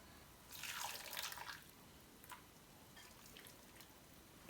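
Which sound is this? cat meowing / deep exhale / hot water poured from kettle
hot water poured from kettle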